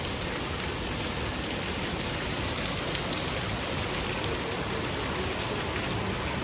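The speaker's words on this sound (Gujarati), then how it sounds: "મસ્ત મસ્ત વરસાદ આવે છે." Heavy monsoon rain with wind, a steady, dense hiss of falling water that holds evenly loud throughout with no gaps and no voices.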